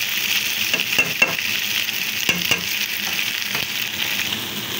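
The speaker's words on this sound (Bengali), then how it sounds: "সবকিছু দিয়ে ভালো করে নেড়ে চেড়ে নিচ্ছি।" Pasta with Maggi masala is stirred in a hot frying pan, giving a steady close sizzle broken by several sharp scrapes and taps of the spoon against the pan.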